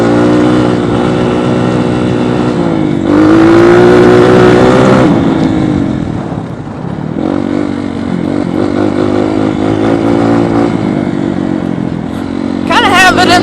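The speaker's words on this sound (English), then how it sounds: "Kinda have it in the high RPMs right now. Just kinda get the bike warmed up." A dirt bike engine held at high RPM while warming up on a muddy trail gives a loud, steady, close buzzing roar with small rises and dips in pitch, and a voice talks over it.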